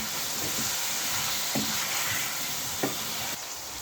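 Potatoes fry in a masala paste for an aloo, saag and chickpea dish, a steady close sizzle with a few louder bursts as the pan is stirred.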